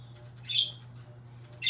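A pet bird squawks in a home: two brief, fairly faint calls, one near the middle and one at the end, over a low steady background hum.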